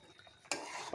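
Beef curry is stirred in a pan with metal scrapes and sizzling, louder from halfway through the moment and running steadily to the end.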